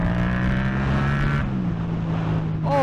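A Yamaha MT-07 motorcycle engine pulls hard during a wheelie, loud and close. The tone is a strong harmonic drone that drops in pitch midway as the throttle eases, then rises briefly again at the end.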